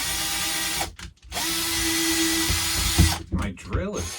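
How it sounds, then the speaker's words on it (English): A malfunctioning power drill runs through most of a home remodeling job, its steady whine broken by brief pauses and sputtering near the end, with a voice mixed in. "My drill is just not working right now."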